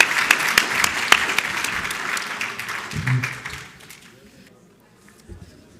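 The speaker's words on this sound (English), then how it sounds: "Can we give a huge round of applause to all our speakers?" An audience at a spine conference session applauds its speakers, with dense clapping that is loud at first, then thins and fades to a few scattered claps, with some chatter underneath.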